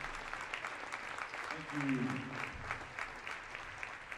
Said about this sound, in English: Give our seniors a round of applause.